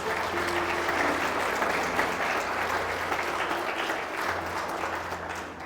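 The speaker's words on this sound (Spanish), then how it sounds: "Aplauda a Cristo." Church congregation applauds in a continuous, dense round of clapping at moderate level, sustained throughout with a faint background hum.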